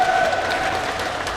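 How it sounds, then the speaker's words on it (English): A crowd at a Red Hill water pledge event applauds for the OHA Chair, a soft continuous patter of clapping under a faint lingering tone, with no clear speech. "how about a nice round of applause for our OHA Chair Keohokalole"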